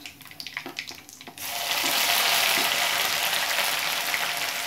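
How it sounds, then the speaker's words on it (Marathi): Ginger garlic paste drops into hot oil in a pan for dal gandori and bursts into a loud, steady sizzle. A few light clinks and stirring sounds come just before. "त्यानंतर आपण टाकू ही आलं लसणाची पेस्ट."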